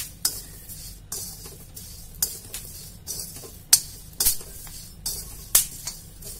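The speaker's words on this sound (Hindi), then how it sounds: "इसके लिए मैंने कढ़ाई गर्म करके रखी है, इसमें मैंने ये बीज डाल दिए हैं।" Melon seeds being stirred and dry-roasted in a hot kadhai give irregular scraping clatters and sharp clicks against the metal over a faint steady hiss, each stir standing out clearly with no voices.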